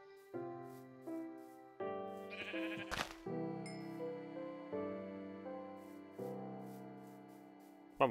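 Sheep in the video game Minecraft bleat repeatedly, about eight clear, close baa calls at a steady pace with a short scuffle of game sounds in the middle, and no talking.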